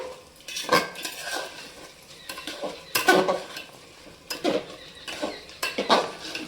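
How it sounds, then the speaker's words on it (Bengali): Pulao rice is fried in a pan for a few minutes while a spoon stirs it, giving repeated scraping and clinking strokes against the metal over a faint sizzle. "প্রায় দু তিন মিনিট ধরে ভেজে নিতে হবে চালটা"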